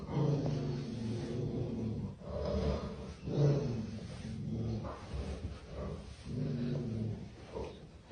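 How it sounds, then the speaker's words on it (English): A pet dog growls low and barks a few times indoors at night, the rumbling growls rising and falling in several drawn-out bursts, fairly close and alone with no talk. "then she started barking, and she growled"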